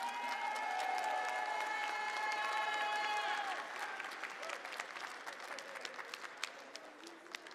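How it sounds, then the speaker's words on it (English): Applause from the audience at a Dragon Ball card game tournament livestream, for the players, sustained clapping with a bright tone playing over the first half before the music fades and the clapping carries on alone. "One more huge round of applause for all of our players and Hiroki-san"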